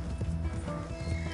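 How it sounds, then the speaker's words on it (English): Quick rhythmic hoofbeats of a galloping horse running low on stamina in Red Dead Redemption 2, with a brief whinny, over a steady game-like background. "My horse is running out of stamina."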